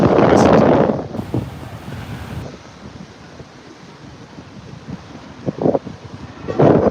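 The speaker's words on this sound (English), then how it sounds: "It's really windy." Strong wind buffets the microphone on a Paris street in heavy, roaring gusts that ease off in the middle and surge back toward the end; no voices.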